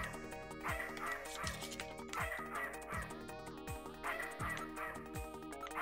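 Repeated crow caws from a video game, heard over looping synthesized game music with a steady, rhythmic backing and recurring descending tones, moderately quiet, with no talking.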